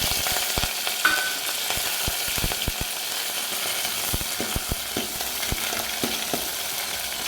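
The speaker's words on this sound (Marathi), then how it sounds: "तेल तापलं कडक की मोहरी फुलून देते" Mustard seeds crackle and pop in hot oil in a pan, a dense close sizzle broken by many sharp irregular pops, with no voices.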